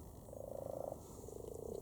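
Frogs croak in a garden pond during spawning season at night, a faint, rapid pulsing trill repeating in two bursts over a soft ambient hiss, with no voices.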